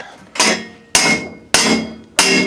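Four loud, sharp blows from a dead blow hammer striking an exhaust pipe while fitting Charger headers to a 5.7L Hemi Grand Cherokee, spaced about half a second apart, each with a brief ringing decay and no talking.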